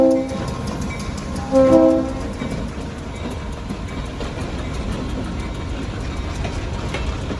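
A railroad locomotive on a short-line freight train idles and rumbles close by, with two brief multi-tone horn blasts near the start before a steady mechanical drone takes over.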